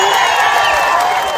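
Loud crowd applause with scattered cheers at a Karnataka farmers' union rally, a dense steady wash of clapping filling the whole moment.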